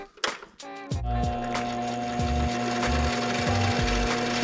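A small hobbyist lathe spins a 3/8 bolt held in its chuck: a short clatter, then a steady, close motor whine with a rhythmic pulsing beneath it.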